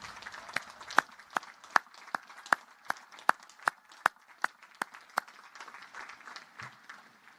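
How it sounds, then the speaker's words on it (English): Sharp, evenly spaced claps sound one at a time over a soft murmur at a naval academy graduation ceremony, a slow rhythmic clapping rather than a full ovation, fading after about five seconds. "give them a huge round of applause to celebrate all they have done to get you to this moment"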